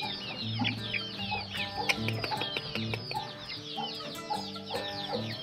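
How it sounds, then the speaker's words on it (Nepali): Hens and chicks kept at a family home cluck steadily and fairly close, with soft repeated clucks and occasional peeps layered over one another, no talking. "कुखुराहरू पनि छ है हाम्रो घरमा।"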